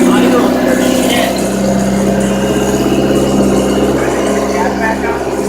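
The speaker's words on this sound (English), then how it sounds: "Banging off the rev limiter once." A Ford Contour beater with a custom exhaust, engine running loud and close with a steady rough idle-like drone and throbbing exhaust pulses throughout; no distinct single rev-limiter bang stands out.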